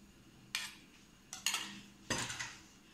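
Biscuit crumbs being mixed with melted butter in a bowl, three quick close bursts of utensil scraping and clinking against the bowl separated by short quiet gaps.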